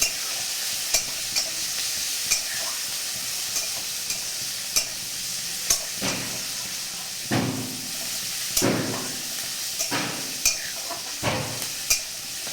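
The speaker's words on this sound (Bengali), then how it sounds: "পেঁয়াজ কুচিটাকে ভালো করে ভাজবো।" Chopped raw onions fry in a pan with a low, constant sizzle, broken by repeated scraping strokes of a spatula at irregular intervals.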